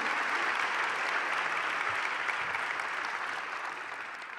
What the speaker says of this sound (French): Je pense qu'on peut les applaudir, effectivement